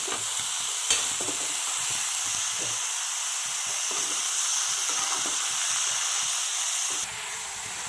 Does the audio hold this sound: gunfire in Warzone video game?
no